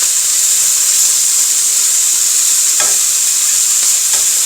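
Pork sizzling steadily in a pan while being flipped with tongs, a loud continuous frying hiss with a couple of faint clicks from the tongs, no speech.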